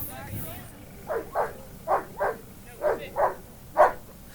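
A sheriff's K9 police dog gives a series of short whiny barks and yips, about seven in quick pairs, close by over low background noise.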